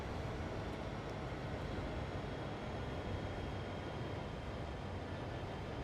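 Steady, dense rumble of a simulated freight train of about 30 cars in Train Sim World 2, with a continuous low roar and no clear breaks, like a locomotive cruising at moderate speed.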